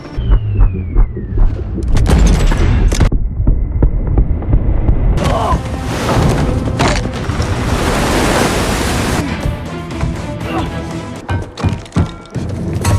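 Heavy booming cannon fire and a sustained roar of explosion noise, loud and close, as an old cannon hits an enemy helicopter near a ship, with crashing debris and rumbling that gradually subsides.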